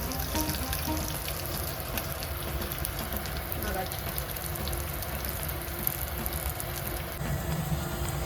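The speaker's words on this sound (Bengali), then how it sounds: "জাস্ট নাড়াচাড়া করবো, হালকা নাড়াচাড়া করবো।" Sliced onions and potatoes sizzle and fry in a pan while being stirred, producing a continuous loud crackling hiss with faint scraping, close and unbroken throughout.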